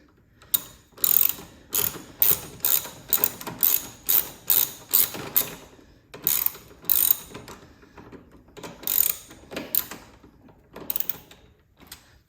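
A ratchet with an extension working on Harley-Davidson foot peg bolts, giving quick bursts of crisp metallic clicking in a regular back-and-forth rhythm, close and clear, with short pauses between strokes.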